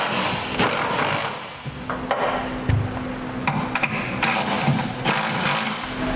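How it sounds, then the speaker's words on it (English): A ratchet tightens the U-bolt nuts of an underbed gooseneck trailer hitch on a 2010 Ford pickup, quick bursts of metallic clicking repeating at close range with short pauses between strokes. "Now for our U-bolt nuts, we want to alternate when we tighten these down."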